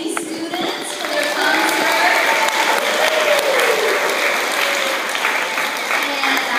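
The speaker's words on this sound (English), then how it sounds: "we would like to give another round of applause to our pre-K 3 students" An audience at a school gathering claps steadily and loudly for pre-K 3 students after their concert, the sustained applause filling the room with a faint voice or two underneath.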